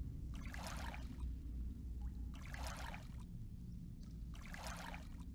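Water sloshing and pouring in the fantasy game Darksong Chronicles, three soft swelling splashy bursts in a steady rhythm over a low rumbling ambient bed, no voices.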